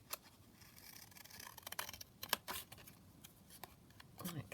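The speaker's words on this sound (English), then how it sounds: "And then we can just cut that down" Scissors snipping through paper ephemera at a junk journal craft desk, a few quiet, sparse cuts and rustles close by, faint and intermittent.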